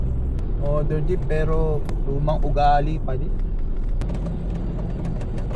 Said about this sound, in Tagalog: Modern jeep.